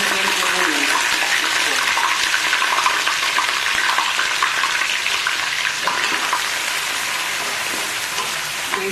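Ginger-garlic paste frying in hot oil, left over from browning onions for mutton korma: a loud, continuous crackling sizzle that stays fairly even throughout.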